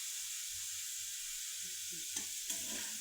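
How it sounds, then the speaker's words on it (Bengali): Potatoes fry in oil in a wok with a steady, bright sizzling hiss, and soft stirring knocks and scrapes come near the end. "আলুগুলো লাল করে ভাজা হয়ে গেছে"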